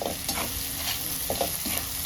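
Spices crackle and sizzle in hot oil, a continuous frying hiss with brief stirring scrapes, close and fairly loud, no voices.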